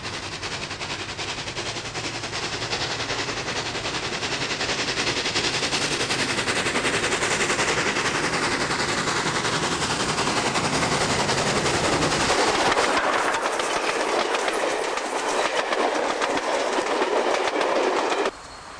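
Steam locomotive 3246 running on rails in New South Wales near Uralla, a loud steady rush of wheels and clattering rail joints with dense rhythmic clickety-clack, the low rumble dropping away in the last few seconds.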